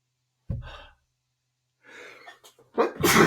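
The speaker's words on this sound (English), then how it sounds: "Oh, I feel a sneeze coming on." A short sharp burst of breath, then a quiet pause, gasping inhales and a final forceful sneeze, close to the microphone.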